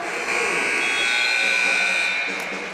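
A basketball game buzzer ends the half of a varsity boys high school game, one loud sustained electronic tone lasting about two seconds and rising over crowd noise in the gym.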